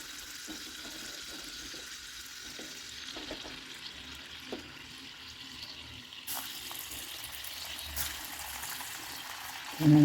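A small test piece of potato dropped into hot oil, setting off a continuous bubbling sizzle that swells partway through and keeps going steadily at close range.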